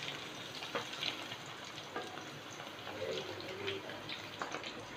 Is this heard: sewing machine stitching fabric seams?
no